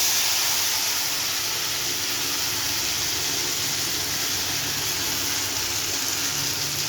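Ground pea lentil paste goes into a hot kadai, producing a steady bright hissing sizzle like escaping steam, even and unbroken throughout, with no voices.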